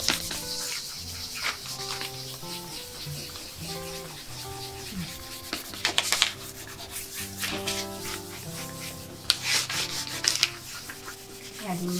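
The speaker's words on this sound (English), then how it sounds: "Burnish it in. Burnish it." A transfer is burnished onto a wooden vintage Christmas decor piece with a smooth tool, making repeated close rubbing and scraping strokes in uneven bursts over faint background music.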